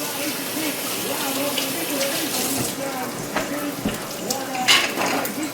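Running tap water splashes steadily while hands are rinsed beneath it, with occasional clinks and faint background noise throughout.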